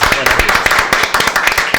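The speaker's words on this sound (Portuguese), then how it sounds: "Merece uma salva de palmas." A round of applause from a small group at a Portuguese-language podcast recording, with dense, irregular claps pattering steadily for the whole stretch, fairly close and loud.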